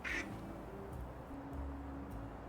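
Soft duckling quacks from the video game Little Kitty, Big City repeat faintly over a dense, low background rumble, with no talking.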